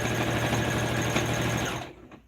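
Sewing machine stitching a straight seam on a bandana babydoll tank top, a loud, steady, close-up whir that runs for about two seconds and then stops abruptly.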